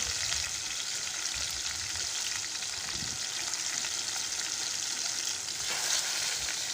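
Pieces of bahu fish fry in hot oil, a steady, dense sizzle that holds even and close the whole time, with no voices.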